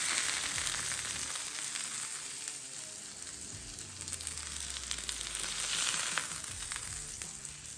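Steaks sizzle on a Ninja grill and griddle, a continuous bright frying hiss with crackles over a soft low rumble, steady and close with no voices.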